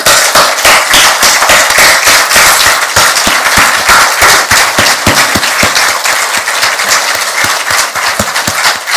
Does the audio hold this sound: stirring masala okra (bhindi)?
no